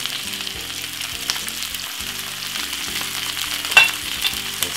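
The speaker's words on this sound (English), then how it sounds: "Simple, give it a stir." Stir-fried cabbage and crisp pasta stirred in a hot pan, giving a steady sizzle and frying hiss with scraping utensil knocks and a louder clatter near the end; no one speaks.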